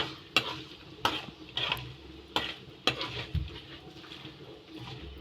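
Small onions frying in a pan for tomato pickle, sizzling steadily with repeated sharp scrapes and clinks of a stirring spoon against the pan, close up and without voices.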